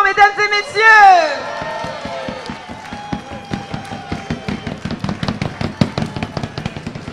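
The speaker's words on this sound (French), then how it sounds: "Regardez, sous vos applaudissements, mesdames et messieurs." Audience clapping for the winner at a caquelon-throwing contest, a rapid stream of sharp claps that begins after a brief burst of voices and cheering and continues steadily.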